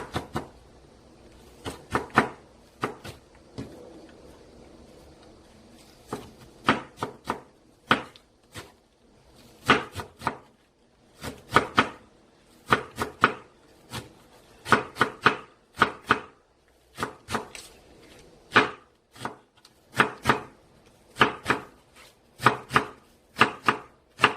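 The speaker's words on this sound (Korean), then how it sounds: "대파는 아주 쫑쫑쫑쫑 썰어주세요. 아주 잘게" A knife chops green onion (daepa) finely on a cutting board, with rapid, sharp, close knocks in uneven bursts, some quick runs of strokes and brief pauses, and no talking.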